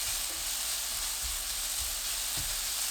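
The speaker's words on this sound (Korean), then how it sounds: "달군 팬에 식용유 2큰술, 다진 마늘 1큰술, 양파, 당근 넣습니다. 중약불로 1분 30초 볶아주세요." Minced garlic, onion and carrot stir-frying in about two tablespoons of cooking oil in a hot pan over medium-low heat, a steady close sizzle with a few soft scraping stirs, no voices.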